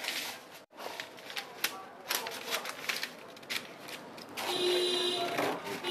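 Scissors cutting the back piece of a bustier blouse pattern from fabric, a series of crisp snipping and rustling strokes up close, with a soft voice talking in between.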